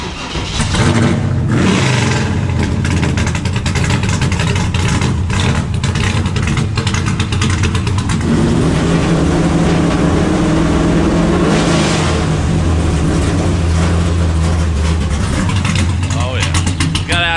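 A NASCAR-style truck engine idles loudly and steadily throughout, with a lumpy, continuous rumble and some revving, while people talk over it.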